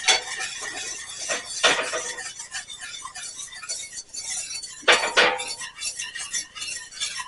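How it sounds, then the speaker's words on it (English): A spoon stirs milk into cinnamon roll icing in a pan on the stove, with repeated metallic clinks and scrapes against the pan, two louder strokes standing out, and no talking. "And we're going to stir it in."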